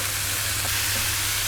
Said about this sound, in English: we just want to fry that off for a couple of minutes just to soften up the herbs, the garlic granules, the onion granules